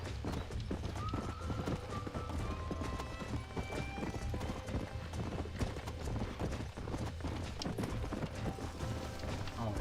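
Horse hooves clop rhythmically at a steady trot against a dense bed of ambient sound in the video game Red Dead Redemption, with a faint whinny early on.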